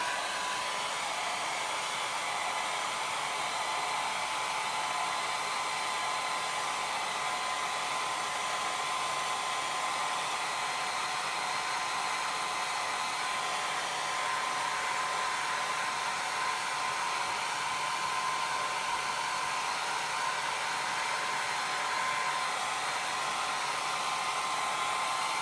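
A hair dryer blows steadily to dry a Chalk Couture silkscreen, giving a constant airy hiss with a faint whine. It stays at an even, moderate level for the whole stretch, with no talking.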